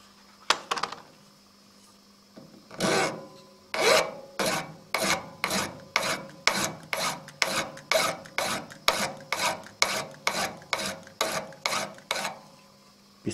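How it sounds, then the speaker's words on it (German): A metal file is drawn across a folding knife blank clamped in a vise, producing a steady run of about twenty evenly spaced rasping strokes, close and loud, after a few irregular opening scrapes. "Die nehmen oben zuerst super flach feilen."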